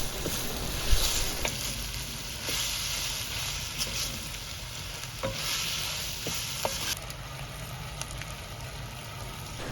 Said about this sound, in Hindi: इसमें आलू डाल दें। और इसको हिलाते जाएं।